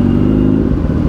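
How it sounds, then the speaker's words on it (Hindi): A Kawasaki ZX6R motorcycle with a short, belly-mounted SC Project exhaust gives a loud, close, deep rumble that holds steady for about a second, with no talk. "देखो नीचे ना बेली पे लगा हुआ है एससी प्रोजेक्ट, छोटा सा कहना है इसीलिए बहुत लाउड आवाज़ कर रहा है"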